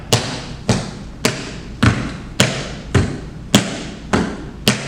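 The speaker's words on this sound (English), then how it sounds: "Make sure the sounds are clear, and you're moving just the toes and just the heels." Crisp, evenly spaced tap-dance toe and heel taps strike about twice per second in a steady rhythm, each a sharp percussive hit on a hard floor, with no voices.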